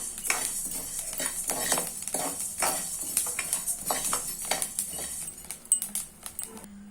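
Rice roasting in a pan for a traditional sweet laddu, stirred with a metal spoon: rapid scraping clinks and taps against the pan, close and steady, with a faint sizzle underneath.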